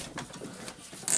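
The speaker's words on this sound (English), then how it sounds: "And now we can try to spin the chuck a little bit" A cordless drill's chuck and gear assembly, clamped in a vise, is turned by hand, giving faint, irregular mechanical clicks and gear rattles in short bursts, with a brief sharper hiss at the very end.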